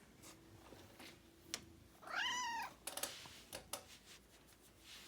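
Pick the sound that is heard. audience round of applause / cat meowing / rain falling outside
cat meowing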